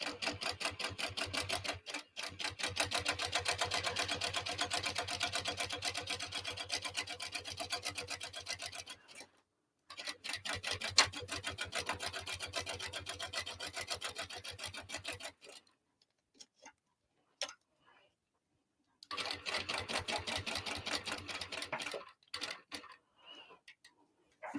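A sewing machine stitching a tote bag, its needle pounding in fast, steady runs broken by short pauses and a few isolated stitches before a final burst.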